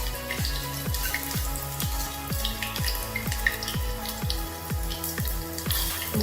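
Green chilies and four cloves of coarsely crushed garlic sizzle and crackle in hot oil in a pan, a steady dense frying hiss with regular popping bursts throughout, close and loud with no talking.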